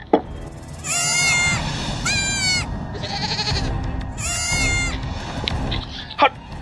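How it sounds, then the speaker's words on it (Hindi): Goats bleat in a rural village setting, with several loud, wavering cries standing out over background noise and scattered human voices. "साला बकरी का चिल्ला तरत मेरे"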